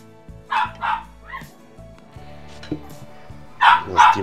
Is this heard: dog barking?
yes